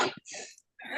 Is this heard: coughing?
yes